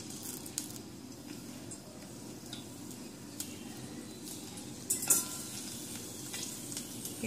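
Slit green chillies fry in coconut oil for a potato stew, a soft, steady sizzle heard close, with faint clinks of a spoon and a slightly louder stir midway.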